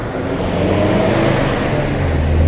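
A heavy vehicle rumbles loudly and steadily close by, its engine drone filling the moment like a truck rolling past on the road.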